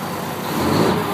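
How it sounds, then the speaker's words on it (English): A truck engine with the engine brake engaged revs up, a loud, steady mid-range roar that swells slightly over a second, heard close and alone. "let's give her a rev."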